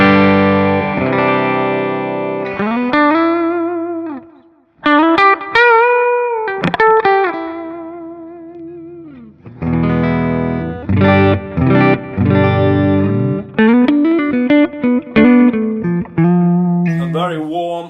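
Clean electric guitar notes and chords from a Gibson Explorer-style guitar ring out clearly through a Matchless amp, played in phrases with short gaps, no talking.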